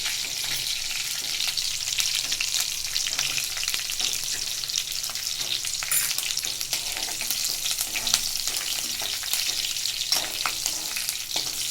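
Tempering of curry leaves and cut green chillies crackling in hot oil for fasting khichdi: a continuous bright, hissing sizzle with dense popping crackles throughout, close and steady with no talk.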